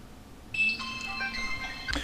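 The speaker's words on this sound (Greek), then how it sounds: "τώρα βρήκα να πάρουν τηλέφωνο" A phone rings with a bright electronic ringtone melody, starting abruptly partway through and repeating close and fairly loud over quiet background music.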